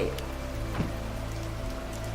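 Steady monsoon rain pouring down in a kids' animated story, a dense continuous patter on surfaces with no break throughout.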